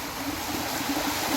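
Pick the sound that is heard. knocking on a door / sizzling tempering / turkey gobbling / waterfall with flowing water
waterfall with flowing water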